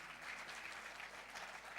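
Church congregation applause, a brief, steady wash of clapping heard from a distance at low level, with no voices over it.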